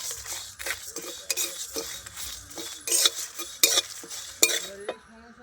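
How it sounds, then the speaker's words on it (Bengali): A spoon stirs flour frying with a torn bay leaf in a pan for cauliflower singara, giving repeated close scraping and clinking strokes over a soft sizzle in an irregular rhythm. "খুব ভালো করে নেড়ে চেড়ে নেবো এবার আমি যাতে ময়দাটা খুব ভালো করে ভাজা হয়ে যায়"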